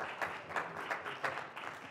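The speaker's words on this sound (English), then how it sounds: "That's the biggest applause." Fairly faint audience applause at an evening talk by a rabbi, with a steady patter of clapping and small surges over about two seconds, no voice on top.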